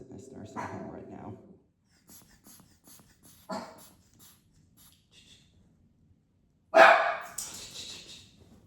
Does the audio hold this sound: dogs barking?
yes